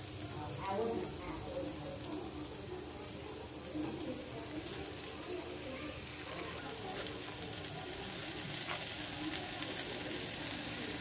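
Water spinach frying with vegetables in a pan, giving a continuous sizzle with stirring scrapes underneath, while a voice talks throughout.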